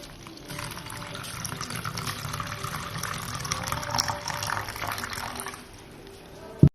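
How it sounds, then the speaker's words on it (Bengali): Water poured from a vessel into a bowl in a home kitchen while preparing hibiscus flower fritters, a steady close splashing stream lasting several seconds before stopping, with no talking. "তারপর এই বাটির মধ্যে জল ঢেলে নিন"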